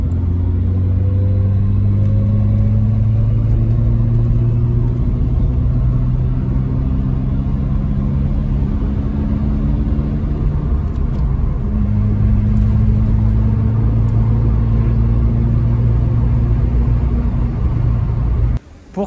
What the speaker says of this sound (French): vous avez en plus la voiture moteur tournant